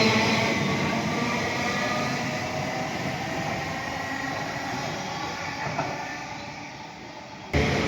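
An Elizabeth line train pulling into Maryland station in London, a steady loud rumble of wheels and carriage noise that gradually eases as it slows, ending with a sudden jolt.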